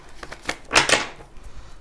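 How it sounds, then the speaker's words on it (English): Tarot cards are shuffled by hand in a short burst: a few light riffling clicks build into a brief, close, papery flutter that fades within two seconds, with no voice over it. "I gotta shuffle these cards."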